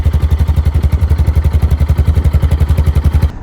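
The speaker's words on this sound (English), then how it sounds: "their factory exhaust system, which you can hear the pulses coming from the engine in the air." A Yamaha XT660R engine runs through its factory exhaust, close and steady, with fast, even low exhaust pulses throbbing for a few seconds before cutting off abruptly.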